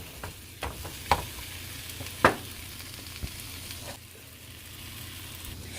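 Apples sizzle and fry in a pan, a steady hiss broken by a few sharp clinks and scrapes of a utensil stirring them.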